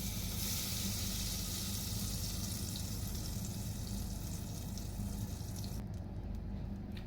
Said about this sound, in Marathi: टोप मी गरम करायला ठेवलं आहे, त्याच्यामध्ये मी थोडं बटर टाकते आणि तेल पण टाकते.